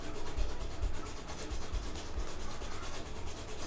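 A sharp acrylic panel corner is ground down with a continuous gritty rasping and rubbing sound. It is steady and close throughout, and no one speaks.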